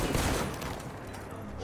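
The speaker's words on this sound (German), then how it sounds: "Also er hat anscheinend einen Schuss abgegeben." Dense burst of rapid gunfire from the video game Detroit: Become Human, loud and sustained, with blasts overlapping into a continuous rattle that tapers slightly.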